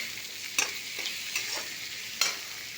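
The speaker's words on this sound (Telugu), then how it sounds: "ఇలాగే ఇందులో ఒక టమాటా తరిగి పడేసాను, ఇది కూడా బాగా వేగుతాం" Chopped tomato fries with black-eyed peas in a pan for a curry, giving a steady bright hiss of sizzling punctuated by a few spoon scrapes, close and without talk.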